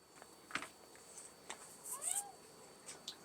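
A cat meows in a workshop, giving a short rising-and-falling call in the middle, with a few faint clicks and knocks around it and no talking.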